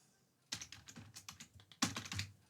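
A name is typed on a computer keyboard: a quiet pause, then bursts of clicking keystrokes in an uneven rhythm, with one louder cluster of presses near the end.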